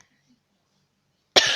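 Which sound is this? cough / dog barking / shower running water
cough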